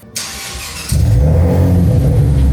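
A Cadillac CT4-V Blackwing engine starts and settles into a deep, loud exhaust rumble, close by and steady after a brief rise.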